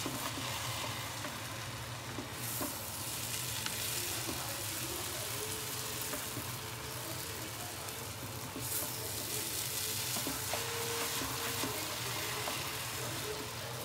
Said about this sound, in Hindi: दो 3 मिनट इसको हम चलाएंगे, नीचे ना लगे।